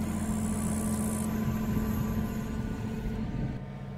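A 1/20 scale RC mini excavator's engine runs steadily while the machine reverses, a close, continuous mechanical hum and whine with a slight drop in level near the end.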